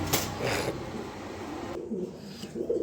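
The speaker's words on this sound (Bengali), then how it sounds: "কবুতরটি ভয় পাইতেছে এর জন্য কবুতর খালি সামনে চলে আসে" Pigeons coo in a home loft, with low, throaty calls repeating over a busy, rustling background that lasts the whole moment.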